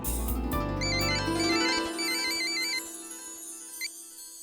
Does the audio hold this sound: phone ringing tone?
yes